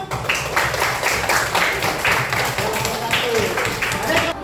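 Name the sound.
class clapping hands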